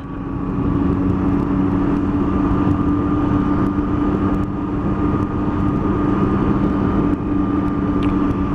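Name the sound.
Triumph Tiger 800 XRT motorcycle riding along a loch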